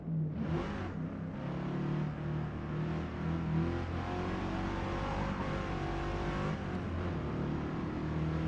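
Engine of an unmodified XB Falcon GT 351 in a racing video game revs and growls steadily, rising and holding at high pitch, loud and close with no talking.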